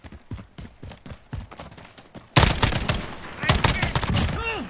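Semi-automatic gunfire in Call of Duty Modern Warfare, a rapid string of sharp, loud shots with short gaps between them. Gameplay sounds thicken the mix partway through, and a whooshing effect closes it.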